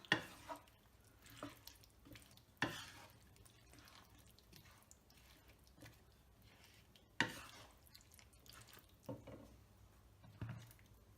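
Beef and raw banana curry being stirred and mixed in a pan, with sparse scraping and clinking knocks scattered over a quiet background, a few sharper strikes standing out, no talking.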